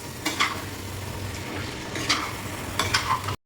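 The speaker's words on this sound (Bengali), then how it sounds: "একদম অল্প ফ্লেম দিয়ে আস্তে আস্তে করে মাংসটাকে কষাচ্ছি" Marinated chicken for a garlic chicken curry is stirred slowly in a pan over a low flame, with a steady soft sizzle and a few louder scraping strokes of the spoon, close by and without talk.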